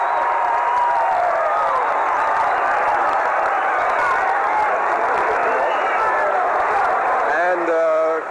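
A large stadium crowd lets out a loud, continuous roar as the field lights come back on, sustained for several seconds with some clapping, then trailing off at the end.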